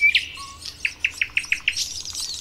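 A thrush nightingale sings in spring on its breeding grounds, delivering a rapid series of sharp, clear chirps in an even rhythm, close and bright with no voices.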